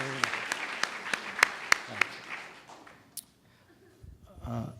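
Applause from an audience at a Russian heritage celebration held at Brooklyn Borough Hall, a burst of clapping with sharp individual claps that fades out over a few seconds, then a speaking voice follows.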